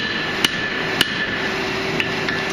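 A hammer strikes an anvil while an axe is forged, four sharp metallic blows spaced irregularly over a steady background hum, close and clear.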